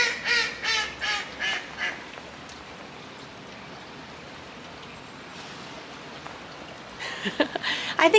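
Ducks quack in a quick series of calls, then go quiet under steady rain patter, and a few more quacks come in near the end.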